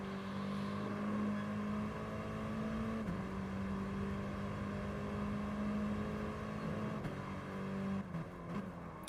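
Mini Cooper race cars in a video game racing through a chicane at Dragon Trail, with a steady, fairly loud engine drone that dips and climbs in pitch as they brake and power back out.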